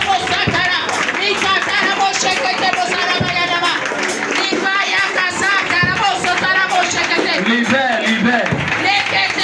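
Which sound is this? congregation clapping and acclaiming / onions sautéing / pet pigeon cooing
congregation clapping and acclaiming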